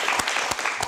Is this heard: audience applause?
yes